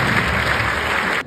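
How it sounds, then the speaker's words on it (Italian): A dense burst of audience applause at a TEDx talk in Pordenone, loud and continuous for about a second before stopping. "Fate un applauso."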